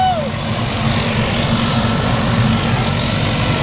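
A skydiving plane's engine drones loud and steady, a constant propeller roar filling the whole stretch close by.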